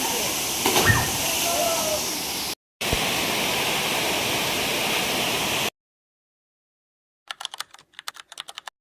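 A forest waterfall in Mulugu district gives a steady, loud broadband rush for several seconds with a brief break. It cuts to silence, followed by a few short bursts of crackly clicking.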